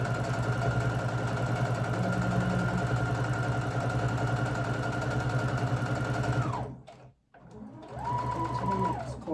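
A sewing machine stitches patchwork fabric squares in a steady, close mechanical whir, stops briefly as the needle is set down and the fabric turned, then starts running again.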